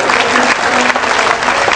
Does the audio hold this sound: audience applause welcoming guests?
yes